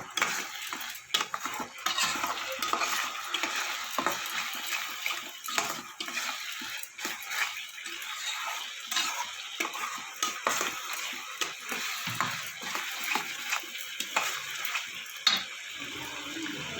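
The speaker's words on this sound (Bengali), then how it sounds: "এবার ভালো করে এটাকে কষিয়ে নেব, সমস্ত মশলা সাথে এটাকে কষিয়ে নেব।" Jackfruit and prawns with Kashmiri chilli powder and spices being sautéed in a pan, with repeated scraping and clattering of a spoon against metal and a faint wet sizzle, close and continuous.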